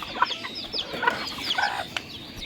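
Chickens on a rooftop farm cluck in short, irregular bursts close by, several birds overlapping at a moderate level with no talking.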